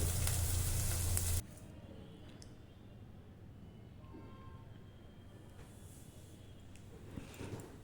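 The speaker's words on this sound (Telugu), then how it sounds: "అల్లం వెల్లు పేస్ట్ను కూడా వేయించండి" Ginger garlic paste fries in a pan for an egg tomato curry. A loud, steady sizzle lasts about a second and a half and then drops to a low, quiet simmer.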